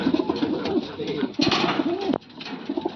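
In a pigeon loft, several birds coo in rolling, repeated phrases close by. A brief scuffle or flutter sounds midway through, and the soft cooing then carries on.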